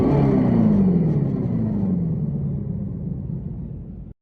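A Dodge electric muscle concept car gives off a deep synthetic rumble that swells loudly, then slowly falls in pitch and fades before cutting off abruptly.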